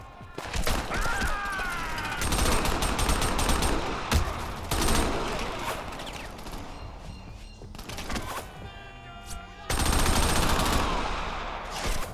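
Rapid gunfire from the Xbox 360 game Crackdown comes in dense bursts and fusillades aimed at the player, loud and sustained across the whole stretch, with brief lulls between volleys.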